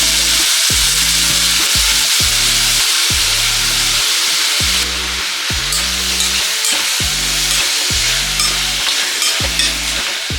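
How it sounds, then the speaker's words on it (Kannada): Grated bottle gourd fries in ghee for kheer, a steady sizzle broken by regular scraping strokes of a spoon stirring the pan, close up and continuous without any talk. "ಇದನ್ನು ಹಾಗೆ ತುಪ್ಪದಲ್ಲೇ ಫ್ರೈ ಮಾಡ್ಕೋಬೇಕು."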